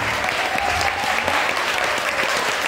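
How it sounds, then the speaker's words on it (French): An audience applauds the people who wrote and worked on a project, steady dense clapping at even loudness throughout, with no voices standing out. "Nous devons applaudir toutes ces personnes"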